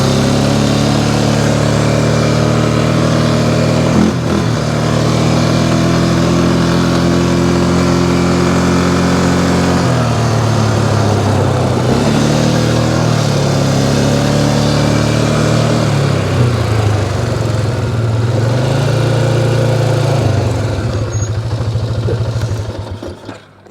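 A Polaris Sportsman XP 550 ATV with a suspected clutch problem runs steadily and loudly throughout, its engine note shifting in pitch as it moves in and out of reverse, with no talk over it.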